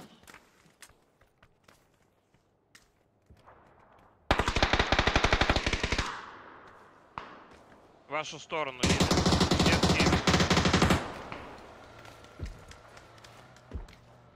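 Bursts of automatic rifle fire in the military shooter Squad, with scattered single shots and two long, loud sustained volleys close by, amid footsteps, with players talking over the radio.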